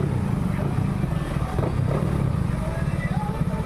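Yamaha Mio i 125 scooter engine upgraded to 160cc being tuned, a close, loud rattling idle with uneven rev surges, while someone talks over it.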